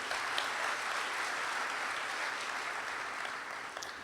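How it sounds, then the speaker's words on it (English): A crowd at a university convocation claps steadily for a few seconds, dense even applause from many hands indoors, with no talking. "I love the idea of clapping in absentia"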